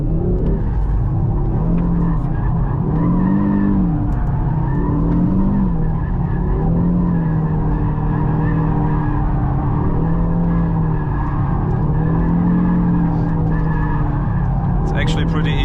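An Audi drifting in Torque Rear mode produces loud, wavering tire squeals in repeated swoops over a constant engine drone, with a voice talking underneath.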